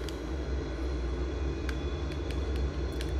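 In a VRS SuperBug flight simulator, an aircraft engine throttling up for takeoff gives a steady low drone with a thin high whine on top and a few sharp clicks, with no speech.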